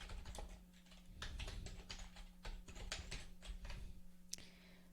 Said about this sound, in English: you can go ahead and type directly into this box